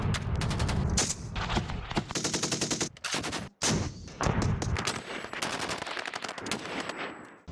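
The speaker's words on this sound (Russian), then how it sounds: "Отработали выполнение стрельбы на высокогорных склонах." Rapid bursts of automatic gunfire rattle almost continuously during military shooting drills on high mountain slopes, loud and dense, with brief gaps between volleys and echoes trailing off.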